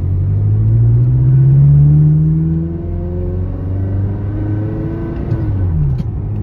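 A 24-year-old Ferrari, just out of winter storage, pulls away in first gear: a loud, close engine note rising steadily in pitch, then easing off and settling into a lower hum before a brief shift.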